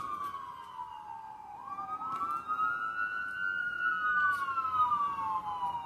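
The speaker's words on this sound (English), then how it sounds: "Here's a siren." An emergency vehicle siren wails as it passes at a moderate distance, its pitch sliding up and down in long sweeping cycles over steady background traffic hum, with no voices.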